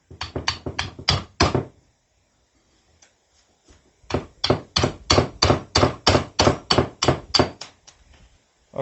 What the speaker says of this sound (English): I'm just gonna use a socket extension and a hammer to punch it out.